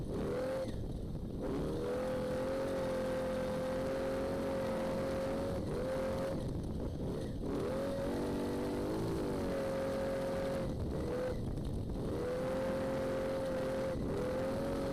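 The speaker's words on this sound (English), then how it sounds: "Third gear, hard on the throttle." Off-road race truck in the NORRA Baja desert rally, Ensenada to San Felipe, accelerating hard at full throttle in third gear: a loud, continuous engine roar with rising pitch sweeps, the revs climbing and briefly dipping at several shifts.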